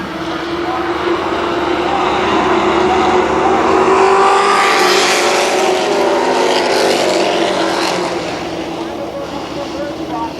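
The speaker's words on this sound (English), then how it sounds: "They pick up the throttle through turns 3 and 4. The green flag flies and we are racing." Race cars roar as they accelerate under the green flag at Kil Kare Speedway, a loud engine drone that builds and swells as the pack passes, with an announcer talking over the noise.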